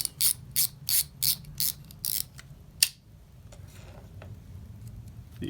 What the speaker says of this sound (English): I'm going to now assemble the drag star.